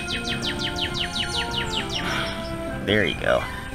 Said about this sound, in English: Also, sorry for the birds.